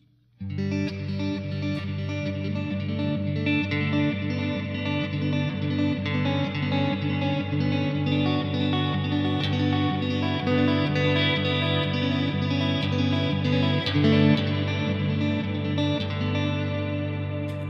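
A sustained, effects-heavy guitar tone through a Neunaber Immerse reverb pedal, a thick wash of reverb behind the direct, unprocessed signal, playing steadily and loudly with no voices.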